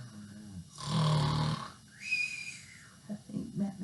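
A voice imitates snoring: a drawn-out nasal snort followed by a rising whistly exhale, then softer breathy puffs, close and clear.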